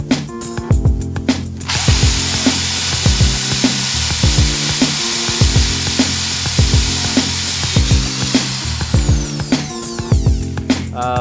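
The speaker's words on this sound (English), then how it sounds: "sounds like I should drill a hole in the new bell housing" Repeated whining power-tool bursts with rhythmic grinding strokes, a drill boring a hole in a metal clutch bell housing, loud and close, running almost continuously with brief pauses.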